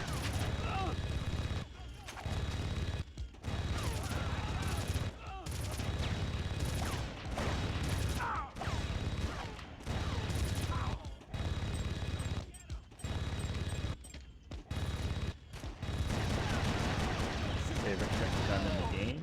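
Gunfire from the PS2 video game Red Faction, including a precision rifle, rattles in dense sustained volleys broken by short silent gaps, with a voice talking over parts of it.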